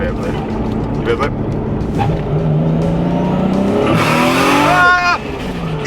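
A 650 bhp Toyota Supra engine blips sharply near the end, a rising rev burst over a loud idling rumble, with a person talking over it inside the car.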